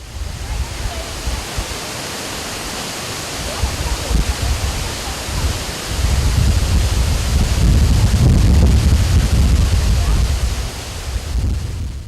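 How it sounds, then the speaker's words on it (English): Boti waterfalls in a forest at the foot of a 250-step stairway, a steady roaring rush of falling water with wind buffeting the microphone, swelling louder toward the end, no talk. "After descending the stairway, this is what lies in the forest, the waterfalls."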